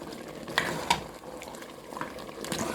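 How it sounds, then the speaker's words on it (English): Scallion and onion stirred in a pot of Jamaican curry cow foot, with a soft continuous sizzle and bubbling and a couple of light spoon knocks against the pot. "So I'm going to just stir him up"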